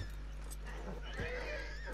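A horse in the video game Red Dead Online lets out a short, close whinny amid a thumping kick and hoof noise, with a voice reacting over it.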